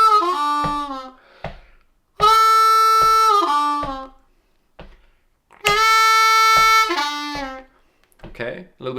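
A slow blues lick from a tune on a G harmonica, with sustained reedy notes and bent pitches sliding downward between held tones, separated by short pauses. Close and bright, played alone with no talking.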